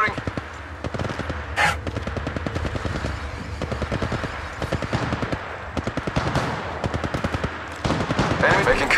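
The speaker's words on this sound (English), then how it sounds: "Opening fire." Sustained automatic gunfire in Apex Legends, with rapid, steady bursts that run almost nonstop and sit loud and close, broken by brief pauses.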